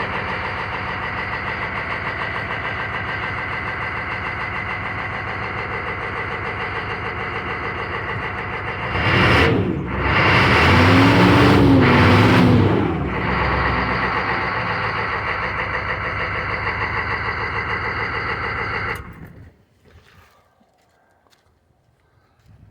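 A 1995 Chevy K3500 with a 6.5 L turbo diesel idles steadily up close, a broad continuous rumble that swells louder midway, then cuts off into near silence near the end.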